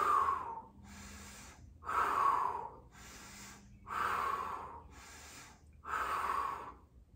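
Audible breathing during a Pilates mat workout, with four or five strong rhythmic breaths, each a forceful inhale or exhale pushed through the mouth, close and alternating with quieter pauses.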